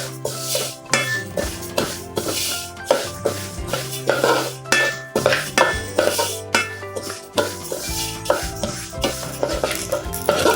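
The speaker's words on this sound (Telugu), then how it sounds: "నువ్వులు వేగాయి అంటే మంచి వాసనతో చిట్పట్లాడతాయండి" White sesame seeds roast in a pan, crackling and rattling as they are stirred. Repeated scraping strokes sound close and clear, with no voices.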